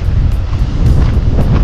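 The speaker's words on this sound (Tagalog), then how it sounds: "Grabe, lumakas ang hangin." Strong outdoor wind buffeting the microphone, a loud continuous roar with low gusty rumbles and no break.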